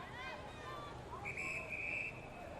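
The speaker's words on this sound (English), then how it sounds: "So we have a whistle" A referee's whistle at a women's Australian rules football match, a faint, thin, steady tone blown a couple of times over distant crowd murmur and commentary.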